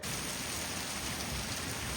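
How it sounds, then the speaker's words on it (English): Heavy rain pours steadily during a tornado warning in a dense, unbroken hiss, loud and close, with no voices. "The rain is really starting to pick up."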